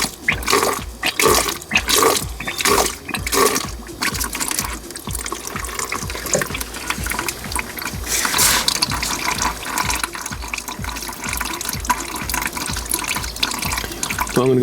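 Old coolant drains from the cooling system of a Polo 9N3 GTI 1.8 20VT after a drain tap is opened, a steady close liquid splash and trickle with irregular clicking and rattling over it, no talk.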